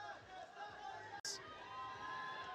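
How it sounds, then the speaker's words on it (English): Crowd at a women's climbing competition final in Salt Lake shouts and cheers for a climber, a steady roar of mixed voices that continues throughout with a brief sharp dropout midway. "You can hear the crowd shouting for her."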